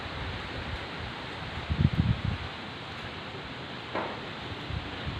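Strong gusting wind rushes across an open area in Phon Sawan district, Nakhon Phanom, ahead of an approaching rainstorm, a steady broadband roar with a louder surge around the middle and another brief gust near the end.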